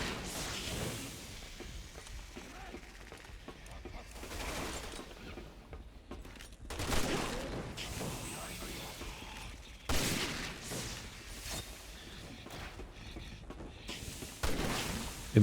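Gunfire from Helena's weapon in Resident Evil 6 Mercenaries mode, a series of loud bursts spaced a few seconds apart, mixed with whooshes and game noise and faint talking underneath.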